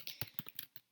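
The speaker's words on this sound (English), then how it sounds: "I'm going to start typing out that entry from the half sheet that I brought home" Typing on a computer keyboard while entering a works cited entry, a quick run of four or five soft key clicks in uneven rhythm, quiet and close with no voices.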